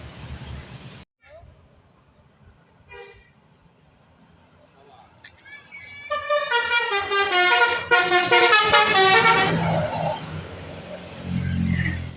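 A Basuri bus plays its telolet musical horn, a loud run of stacked melodic tones that swells in over faint background noise and repeats for several seconds, with a low engine rumble beneath.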